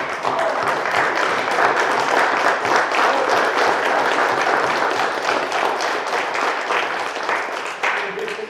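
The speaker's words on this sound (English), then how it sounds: "All in favor, stand and applaud" A standing congregation at a church diocese convention applauds loudly and steadily, a thick wash of many hands clapping for several seconds without pause.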